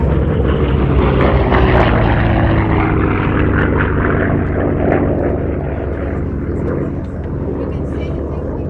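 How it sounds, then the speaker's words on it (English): At an air show, a propeller aircraft flies by loud and close, its engine drone filling the clip and slowly fading, with voices talking over it. "The flyby."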